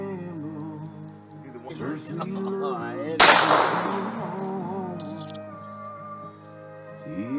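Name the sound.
rifle gunshots while sighting in an SKS or AR-15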